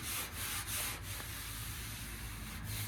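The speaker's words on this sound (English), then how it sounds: "Maybe I'll sand a little bit more here." Hand sanding body filler on a custom cowl hood for a 1983 Chevy G20 van, a steady close raspy scrubbing of abrasive paper over the panel, with a few brief pauses early on, no talking.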